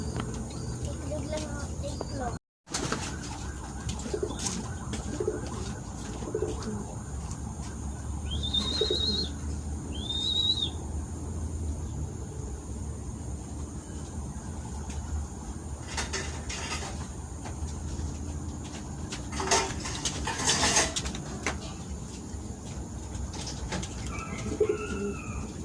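Pigeons coo outdoors during rain, low and intermittent beneath a steady hiss of rainfall, with a couple of brief higher bird chirps and someone talking now and then.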